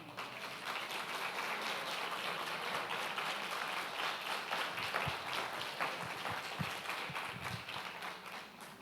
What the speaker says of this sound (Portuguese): Aplauda o advogado.